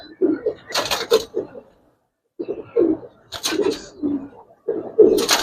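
A colored pigeon coos in three separate bursts of low throaty calls, close and clear, with short silent gaps between them.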